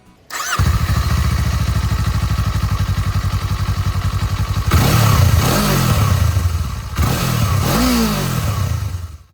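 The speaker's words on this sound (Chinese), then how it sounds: "排气管部分非常的大只，排气的声浪也还算是蛮浑厚的" A Kawasaki Eliminator 500SE motorcycle's large exhaust rumbles loudly and close by at a deep idle, then blips through two sharp revs that rise and fall back.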